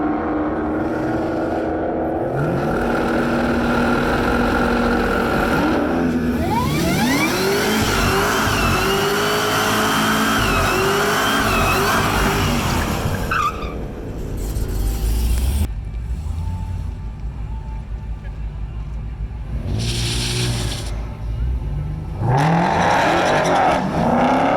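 A drag-style race car with newly installed parts and a new tune revs hard and accelerates for a pass, its loud engine climbing in repeated surges and dropping between runs, close and alone throughout.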